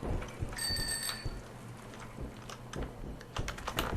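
Clicking keystrokes on a cheap wireless computer keyboard, quick irregular taps up close, with a brief ringing bell tone from a game and low background rumble underneath.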